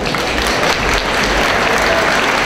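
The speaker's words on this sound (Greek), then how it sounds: "να τη χειροκροτήσουμε." Steady, dense applause from an audience at a pita-cutting event held by the UNESCO club of Piraeus and the Islands in Chalkida, loud and continuous throughout.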